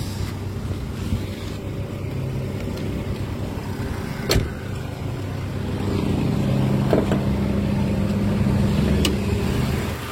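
A 2002 Kia Visto with a manual transmission idling with a smooth, steady low engine rumble, close by, growing slightly fuller partway through, with a couple of faint clicks.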